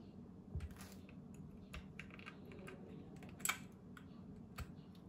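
Keys clack on an RK G68 hot-swappable mechanical keyboard with blue switches. The keystrokes are faint and scattered, with a few sharper, louder clicks in a quiet room.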